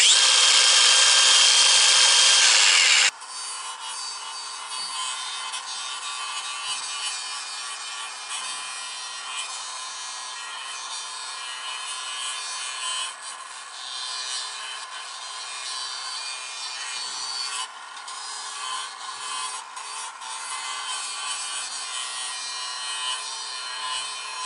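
A DeWalt 54-volt/18-volt cordless tool with a 15-grit tungsten carbide disc trims a hoof. It opens with a few seconds of loud whirring grinding, then drops to a long, softer stretch of scraping and rasping against the hoof.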